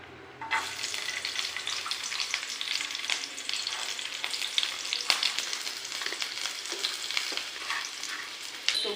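Hot oil sizzling and frying in a pan while making Maggi soup in a home kitchen, a steady loud crackling hiss that starts abruptly and continues with small pops.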